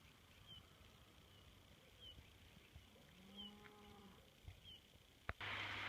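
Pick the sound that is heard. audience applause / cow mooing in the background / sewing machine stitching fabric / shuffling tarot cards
cow mooing in the background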